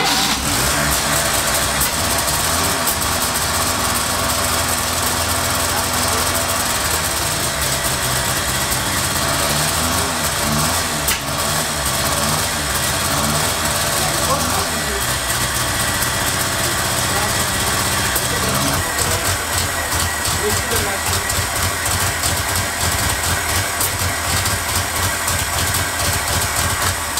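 Renault 4L engine running at idle after starting during a restoration, a steady mid-pitched rumble with slight irregular knocking throughout, close and continuous, with occasional voices nearby.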